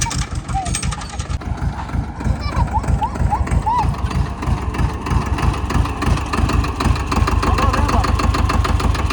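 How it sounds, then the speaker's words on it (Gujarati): A 4x4 tractor with hydraulic lift runs at a wedding procession, its engine thumping in a fast, steady rhythm up close, with voices and a few whistles over it. "અહીંથી 4x4 ટ્રેક્ટર થાય છે"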